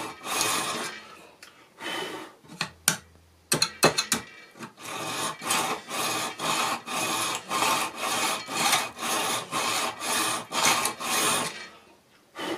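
A hand file works a metal part for a model railway turnout, scraping in a run of rhythmic, deliberate strokes. A few irregular rasps and knocks come first, then about a dozen steady back-and-forth strokes, close and fairly loud.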